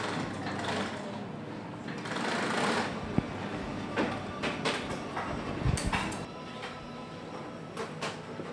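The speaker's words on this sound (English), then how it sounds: "he's sewing home one side to hold it in place." Sewing machine stitching a leather boot seam in a bootmaking workshop, running in steady bursts with a rapid mechanical chatter, close and moderately loud over background shop noise.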